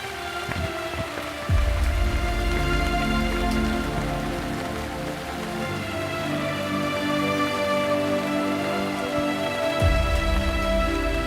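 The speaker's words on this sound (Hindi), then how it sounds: "बारिश बहुत तेज़ हो रही है" Heavy rain pours down steadily and loudly for the whole stretch as a dense, unbroken hiss, with no voices over it.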